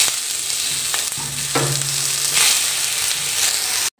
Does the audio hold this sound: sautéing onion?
yes